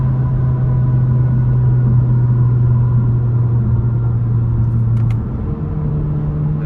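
A 2025 Kia K5 GT sedan engine drones steadily at a near, loud level, its low hum holding pitch before dropping briefly around a paddle-shifted gear change through the dual-clutch transmission, then settling again at a slightly different tone.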